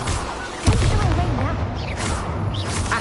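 Incendio fire spell cast in Hogwarts Legacy, a sharp burst followed by a roaring, crackling rush and booming, pulsing noise across the clip, with a brief voice in places.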